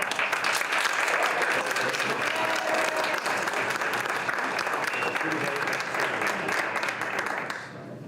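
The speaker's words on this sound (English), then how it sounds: "give them a big round of applause" Audience at a high school board of education meeting gives a big round of applause for the choir after a concert. The applause is dense and sustained, a loud even wash of many hands that carries on steadily before tapering at the end.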